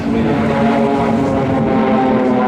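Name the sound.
Swiss Air Force Pilatus PC-7 turboprop aircraft display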